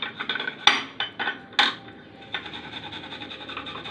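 Red onion rubbed against a fine metal grater, a run of scraping strokes with several sharp clinks against the grater, close and fairly loud with no talking.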